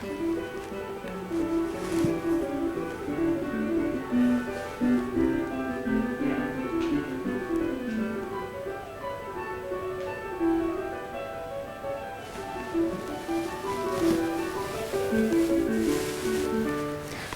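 A pianist playing one of Bach's Goldberg Variations, two hands weaving busy contrapuntal lines at a steady moderate level, somewhat muffled and distant, with no talking.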